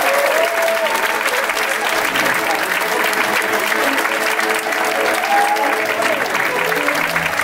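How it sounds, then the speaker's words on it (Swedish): Loud, sustained audience applause at a Swedish stand-up comedy gala, steady and full, with a voice faintly audible under the clapping. "Ge en varm applåd för Magnus Bettner!"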